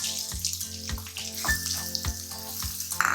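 Three medium onions, chopped fine, sizzle steadily in a pan for a paneer gravy, a close, continuous frying hiss with faint rhythmic thumps underneath and no talking.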